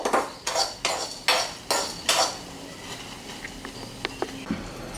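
Sago pearls are dry-roasted in a pan and stirred, giving a run of sharp metallic scrapes and clinks from the spoon against the pan, followed by lighter scattered ticks and taps.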